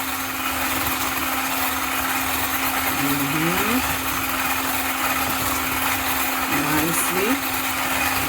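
Eggs being whisked for an apple cake batter, a steady motorized mixer-like whir running continuously throughout, with a person speaking briefly over it.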